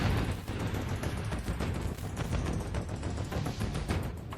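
Gunfire breaks out along the India-China border in Ladakh, a dense, continuous crackle of rapid shots blurring into one loud, sustained roar with no pauses and no voices.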